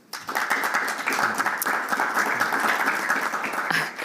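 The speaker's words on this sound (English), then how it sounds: "Can we welcome him with a warm applause, please?" A conference audience claps in welcome for Saudi Arabia's Minister of Commerce at a Davos 2024 session, a steady, dense patter of many hands filling the room for about four seconds without a break.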